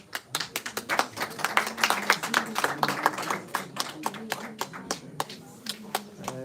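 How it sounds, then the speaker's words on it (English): An audience at a BRICS people's programme event in Delhi gives a round of applause, heard as a run of separate, fairly close hand claps with an uneven rhythm that thin out toward the end. "Let's make a round of applause."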